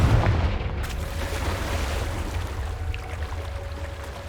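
Confringo fire spell exploding in the game Hogwarts Legacy: a heavy low burst at the start that fades into a lingering rumbling roar and crackle, no talk over it.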